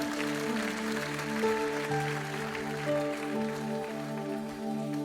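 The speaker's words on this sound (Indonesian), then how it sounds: "mari sekali lagi berikan tepuk tangan saudara-saudara bagi Yesus Tuhan" A church congregation applauds in a soft, continuous patter beneath sustained keyboard music, moderately distant and steady.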